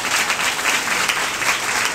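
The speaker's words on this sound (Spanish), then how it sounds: "el cual pide un aplauso para él" A crowd at a Dominican political rally held by the Modern Revolutionary Party claps steadily in a full, continuous burst of applause with no voices over it.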